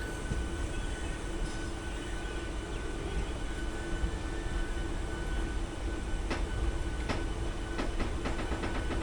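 A Howrah local train rumbles steadily along the rails past a South Eastern Railway car shed, with a constant low roar and faint rattling clacks, close and loud throughout, no voices.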